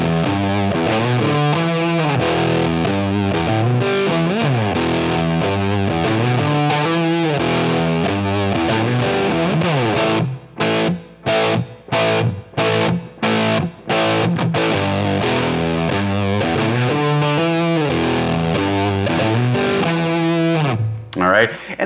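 Distorted electric guitar riffs run through a Line 6 Helix Brit Plexi amp model in a vintage-style tone, sustained chords and then a stretch of choppy, stabbed chords, loud and continuous with no voice.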